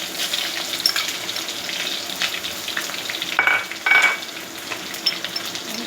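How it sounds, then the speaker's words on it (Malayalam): Curry leaves hit hot oil after mustard seeds have popped, for a murrel fish curry, giving a continuous bright sizzle with two sharp louder crackling bursts midway. "കടുക് പൊട്ടി നമുക്കിനി കരിവേപ്പില ഇടാം."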